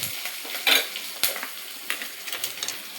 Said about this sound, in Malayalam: അതിലേക്ക് തക്കാളി ആഡ് ചെയ്യുക.